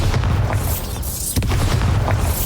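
Booming explosive blast of the Bombarda spell in Hogwarts Legacy, with a sustained low rumble and a sharp impact near the middle, loud and continuous with no talking.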